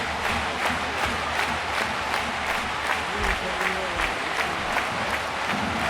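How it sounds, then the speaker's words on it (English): Steady crowd applause and clapping from an arena audience in a Baltimore wrestling show in the WWE 2K video game, a dense continuous roar of claps with an announcer's voice running underneath. "we got claps from the audience here in Baltimore"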